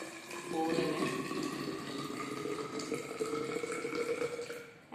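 Water from a 200 ml measure is poured into measuring cylinders filled with garden, crop field and roadside soil, a steady trickling and gurgling that runs for several seconds.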